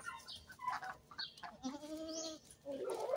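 Goats bleat a few times nearby, short wavering cries mixed with faint farmyard background noise.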